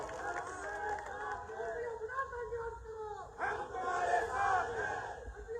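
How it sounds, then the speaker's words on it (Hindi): A large crowd at a political rally in Jhansi, Bundelkhand, cheers and applauds in a sustained, lively roar of voices and clapping, moderately distant. "जोरदार तालियों से स्वागत कीजिए प्लीज"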